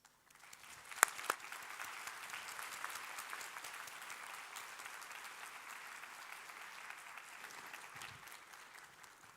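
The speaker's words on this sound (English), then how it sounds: "I also would like to ask everyone to thank our wonderful speakers in a round of applause" An audience at an EU–US investment conference applauds its speakers, a sustained, fairly quiet patter of many hands heard from a distance, with a couple of sharp louder claps near the start.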